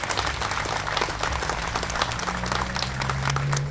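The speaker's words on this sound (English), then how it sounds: "Give them a round of applause, please." A crowd at an outdoor livestock picnic at the Wyoming State Fair claps steadily, a thick, even patter of many hands over a low background hum throughout the few seconds.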